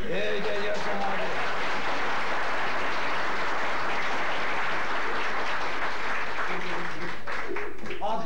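Audience applause during a stand-up comedy show, a dense sustained roar of clapping lasting most of the clip, with a voice speaking at the start and again near the end.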